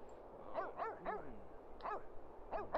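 A dog in The Sims 3 video game gives a string of short, yappy barks and whimpering yips, close and fairly loud, spaced irregularly across a couple of seconds.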